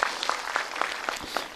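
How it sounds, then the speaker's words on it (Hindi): Audience clapping at a Bageshwar Dham question-and-answer religious gathering, a scattered round of hand claps with distinct individual claps repeating steadily, moderately close, with no talk over it. "एक बार ताली बजाओ"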